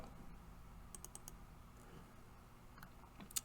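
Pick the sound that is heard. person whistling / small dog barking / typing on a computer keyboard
typing on a computer keyboard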